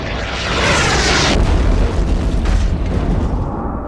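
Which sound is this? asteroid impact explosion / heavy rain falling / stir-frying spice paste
asteroid impact explosion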